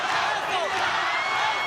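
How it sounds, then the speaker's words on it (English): A boxing arena crowd roars steadily for a fighter, a broad loud wash of cheering and shouting through the short stretch. "The crowd trying to cheer on"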